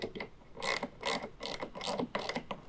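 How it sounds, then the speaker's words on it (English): Ratchet wrench clicking as it tightens a tonneau cover rail clamp on a 2017 Ford F-150 truck bed, a steady run of quick, close metallic clicks in short bursts, alone without voices. "we can go ahead and start tightening that down."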